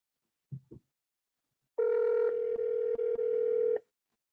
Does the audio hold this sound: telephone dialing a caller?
yes